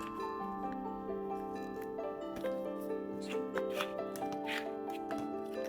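Paper being folded and creased for an origami magic box: soft, faint crinkles and brief creasing rustles beneath steady background music.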